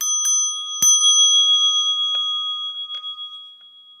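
Temple bell ringing during a Buddhist water-and-land ceremony at Jingwansa, several clear, bright strikes with long, sustained metallic ringing that slowly fades in a quiet space.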